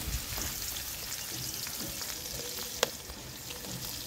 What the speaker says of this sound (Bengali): তেল গরম হয়ে গেছে, দিয়ে দেবো বেগুন।